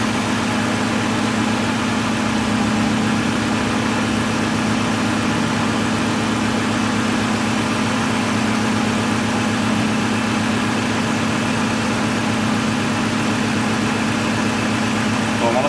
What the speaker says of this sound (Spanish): vean cómo está fallando el carro